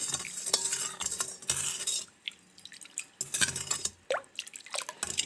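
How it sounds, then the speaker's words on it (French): A spoon stirs sugar and salt into water in a bowl to dissolve them for a vegetable pickle brine. Close, intermittent clinks and scraping strokes sound against the container, with light watery swishes and no talking. "On va mélanger pour les faire fondre notre sucre et sel."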